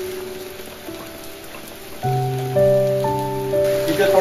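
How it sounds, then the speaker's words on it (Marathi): Steady rain falls in the Sahyadri mountains of Maharashtra during a monsoon bike ride, a constant close hiss with no talk, while sustained tonal sounds join in from about midway. "एक थोडा पाऊस कमी झाला की आम्ही निघू."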